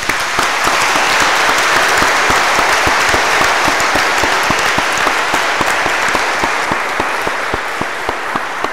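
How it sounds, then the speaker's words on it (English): Loud, steady applause fills a parish church as a congregation claps for newly confirmed young people, with dense continuous clapping and sharp individual claps standing out, lasting the whole stretch at a constant level. "Why don't we give them all a round of applause?"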